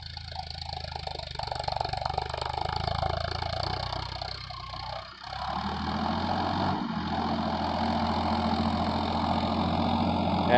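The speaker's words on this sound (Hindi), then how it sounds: "हॉर्स पावर की श्रेणी का ट्रैक्टर है।" Farmtrack 60 Powermaxx tractor of the 55 horsepower class pulling a harrow through a field, its medium diesel engine droning steadily and close, briefly dipping before settling into a constant working roar.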